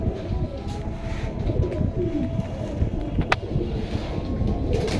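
Pigeons from a seller's collection coo low and steadily in Bangladesh, their murmuring blended into a dense, constant background hubbub with no clear pauses.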